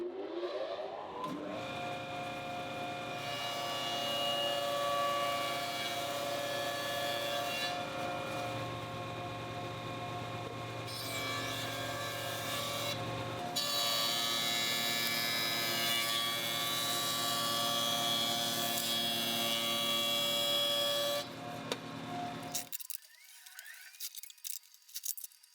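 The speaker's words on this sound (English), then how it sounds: "I think I will joint and plane everything to the same dimensions" A jointer and planer whir steadily while machining wooden parts for a temporary workbench in a workshop, a loud continuous mechanical drone with shifts in pitch as boards pass through, running for over twenty seconds before spinning down to silence.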